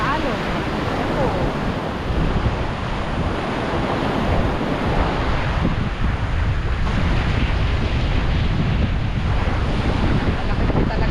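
Big storm-driven sea waves, a loud, continuous roar of surf with heavy wind buffeting the microphone, sustained and close with no break.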